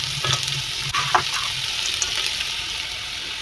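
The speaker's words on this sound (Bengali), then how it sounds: "খুব ভালোভাবে এবার নেড়ে ছেড়ে মিশিয়ে দেবো" Chowmein stir-fried with scrambled egg, potato and peanuts hisses steadily in a hot pan, with scraping and tossing strokes from the spatula breaking through the constant sizzle, close and fairly loud.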